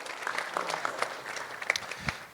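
Applause from a church congregation during a sermon, a loose scatter of individual claps with a few sharper slaps standing out, moderately loud and somewhat thin, with no talking over it.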